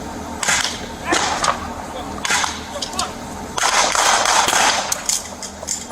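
Loud gunfire during a SWAT shootout with Fort Worth police after a traffic stop, including 40mm less lethal rounds: several sharp, harsh cracks in close succession over a noisy, chaotic background.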